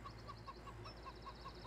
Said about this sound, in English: I gotta check the chickens.